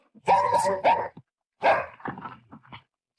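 Dogs bark in a French audio drama, several loud close barks and yelps in two bursts with gaps between, blended with a voice.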